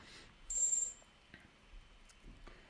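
A bell rings once in a short, bright, high electronic chime, faint and distant, followed by quiet room tone with a few soft clicks.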